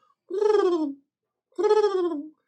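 A human voice imitates a dove's cooing with two drawn-out, falling coos separated by a short pause. Each coo is close, clear and alone against silence.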